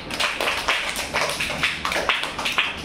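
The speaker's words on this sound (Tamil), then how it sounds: "அவர்களுக்கு ஒரு பலத்த கைத்தட்டல் தருவார்." Audience clapping at a school Children's Day celebration, a steady wash of many hands applauding together with irregular louder bursts throughout.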